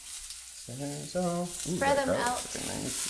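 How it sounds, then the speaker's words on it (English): Pork and ginger sizzle steadily in a stir-fry pan, a continuous frying hiss running under close, casual speech from a home cook. "So just kind of let them sizzle."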